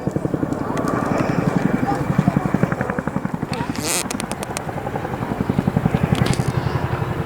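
A Chinook twin-rotor helicopter flies its display at the RAF Cosford Airshow 2022, with a loud, fast, rhythmic rotor chop throbbing throughout while a commentator talks over it.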